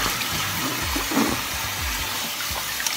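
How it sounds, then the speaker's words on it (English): Running water splashing while clay cleanser is rinsed off a face, a steady close wash of water with a few soft splashes and no talking. "Just rinsing off my face."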